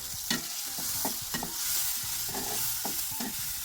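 Chopped onion, spice paste, salt, turmeric and chilli powder frying in soybean oil, a soft sizzle under repeated rhythmic scraping and stirring strokes against the pan, close and without speech.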